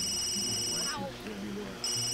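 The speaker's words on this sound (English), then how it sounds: "Answer your phone, I guess." A phone rings in The Sims 3 with a bright, repeating electronic tone. The ringing stops while a person talks, then starts again.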